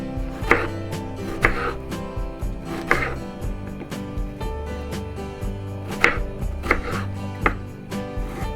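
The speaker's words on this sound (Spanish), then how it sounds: "tomamos nuestras fresas y las vamos a cortar, como les digo, en trozos pequeños" A knife chops strawberries into small pieces on a cutting board, with sharp, close knocks at an irregular pace of roughly one per second and quieter cutting sounds between them.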